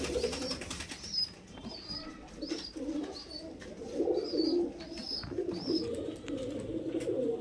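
Highflyer pigeons, a male and female pair, cooing softly and repeatedly at close range with low rolling calls, plus a few faint higher chirps in the background, no speech.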